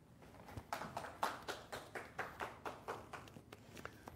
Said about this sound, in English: Let's have a round of applause for our first round winner